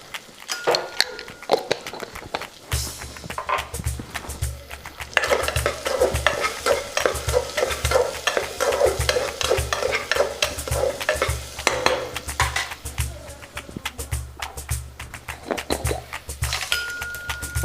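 Cumin seeds sizzle in hot oil in a single cooking vessel while a spoon stirs and scrapes against the pot, sounding busy, close and steady, with occasional clinks and no talking.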